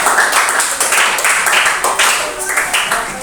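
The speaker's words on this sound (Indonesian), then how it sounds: "berikan sekali lagi tepuk tangan" A class of schoolchildren claps in loud, brisk bursts that rise and fall, mixed with children's voices calling out.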